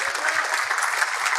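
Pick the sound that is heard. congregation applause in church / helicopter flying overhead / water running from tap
congregation applause in church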